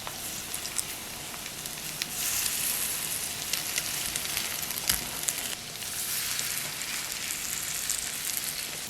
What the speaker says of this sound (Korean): 오일은 넉넉히 넣었어요. 반죽한 가지를 한 국자씩 떠서 넣으세요.